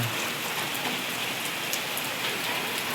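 Steady, dense rain pours down without a break, likely drumming on a rooftop, a continuous close hiss of countless drops with no voices or other sounds on top.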